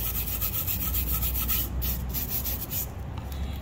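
Steady rough rubbing and sanding scrapes a cast leaf's edges smooth, a continuous close abrasive hiss with a faint rhythmic back-and-forth pulse and no talking.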